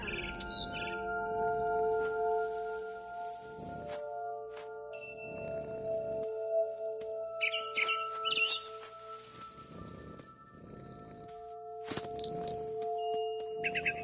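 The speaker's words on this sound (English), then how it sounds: "Then I heard chirping outside my window. It was a barn swallow going back to her nest." A barn swallow chirps in short bursts of bright high tweets within the game What Remains of Edith Finch, set over a quiet ambient backdrop of tonal music and soft rustling steps.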